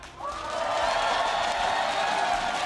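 Sold-out esports arena crowd at an Overwatch League match between the Philadelphia Fusion and Dallas Fuel, a loud sustained roar of cheering and whooping that swells within the first half second and holds steady throughout.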